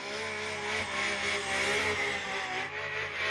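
A 1000 horsepower drift car working a small test track, its engine roaring at high revs in a sustained, harmonic-rich drone that rises and falls slightly with loud tire noise mixed in.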